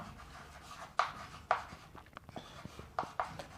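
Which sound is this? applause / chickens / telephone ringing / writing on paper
writing on paper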